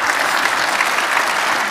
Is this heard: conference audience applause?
yes